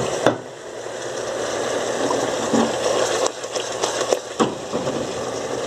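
Seasoning broth poured over sliced cupim beef in a pot, a steady wet splashing and gushing that runs throughout, close and fairly loud, with brief clatters near the start and toward the end.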